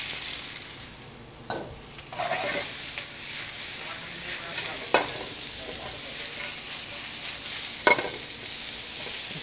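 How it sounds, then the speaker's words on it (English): Onions sizzle steadily in a very hot pan, a broad continuous hiss with a few sharp clatters and stirring scrapes of a utensil, close and fairly loud, with no talking. "so we're going to start off by putting our onions in"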